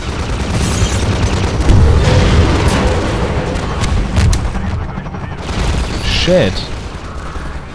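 Rocket launcher and combat in Half-Life 2 at Nova Prospekt, dense booming blasts and gunfire layered over each other, loud and continuous, with a voice speaking briefly.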